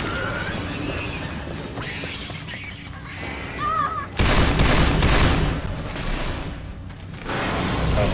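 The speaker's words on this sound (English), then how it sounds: "I'm just actually throwing a pipe bomb." A pipe bomb going off in Left 4 Dead 2 amid a zombie fight: a sudden loud, broad blast partway through, with rumbling gunfire-like noise after, following a stretch of game sounds and a few beeps.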